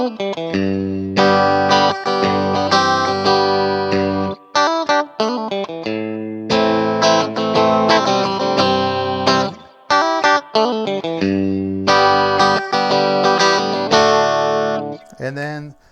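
A STRICH beginner-kit electric guitar plays with the middle and bridge pickups combined, a clean, slightly twangy tone through bursts of strummed chords and short pauses between phrases.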